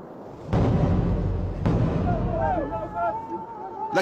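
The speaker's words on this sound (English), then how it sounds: "The miners count the explosions one by one" Blasting explosions deep in a gemstone mine tunnel in Gilgit-Baltistan, two heavy booming blasts about a second apart with a long rumbling roar trailing off, while voices call out in the background.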